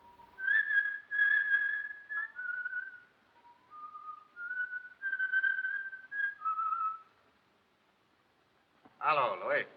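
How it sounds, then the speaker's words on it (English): A man whistles the sextet from Lucia di Lammermoor, phrases of clear, sustained melody with brief pauses, close and alone, ending in a sharp, higher warbling flourish. "Francis Costello, he whistled the sextet from Lucia"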